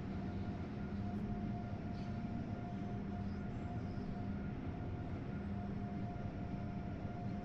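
Acela Express train in Train Sim World 3 accelerating, a steady loud rumble of traction and rolling noise with a sustained tonal hum running throughout, no voices.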